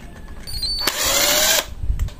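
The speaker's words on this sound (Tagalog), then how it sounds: "pwede po tayong gumamit ng impact wrench dahil pangkalas lang naman" Cordless impact wrench removing screws from an electric grinder during maintenance, a loud close burst of whirring and rattling hammering lasting under a second, with brief clicks before and after.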